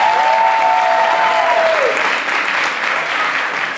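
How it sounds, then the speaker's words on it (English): A crowd at a company awards event applauds loudly and steadily, a dense wash of clapping that holds for nearly four seconds with a faint tonal whine early on. "Please clap it up."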